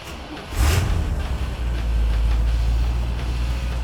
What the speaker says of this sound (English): How about I start it for you so you can hear what it sounds like?